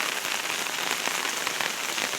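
Steady rain falls outside a house on a lane, a dense, even patter on surfaces that carries on without a break.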